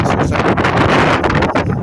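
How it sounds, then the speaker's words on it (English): Strong gusty wind buffeting the microphone, a loud rumbling roar that surges and dips for a couple of seconds. "Well, it's windy."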